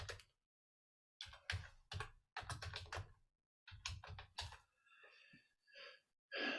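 Bursts of clattering keystrokes on a computer keyboard come in uneven clusters with short pauses between them, close and fairly crisp, followed by faint breathy sounds.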